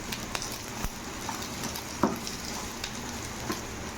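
Chopped onion frying in a pan, stirred for a couple of minutes, makes a faint steady sizzle with a few light scraping clicks from the spoon.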